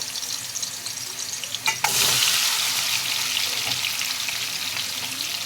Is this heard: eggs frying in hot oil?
yes